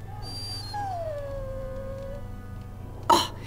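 A hunting dog in the video game Dragon Age: Origins whimpers in one drawn-out, falling whine over quiet ambience, followed by a brief soft thump.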